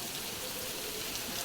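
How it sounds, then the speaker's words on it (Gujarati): Rain falls in Dwarka as a brief, even hiss of steady drops with no other sounds. "દ્વારકામાં વરસાદ ચાલુ થઈ ગયો"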